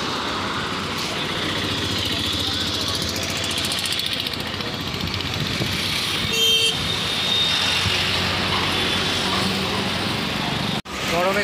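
Highway traffic on the Delhi–Chandigarh road: a continuous wash of engine and tyre noise with passing vehicles and a brief whooshing burst midway, heard from moving vehicle, ending in a sharp thump.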